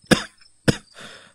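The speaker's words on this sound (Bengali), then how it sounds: "কাশির দমক সামলাতে সামলাতে ঘর ঘরে গলায় গালমন্দ করতে লাগলো" An old man's harsh coughing fit in a horror audio story: two sharp, close coughs followed by a rasping, wheezy breath.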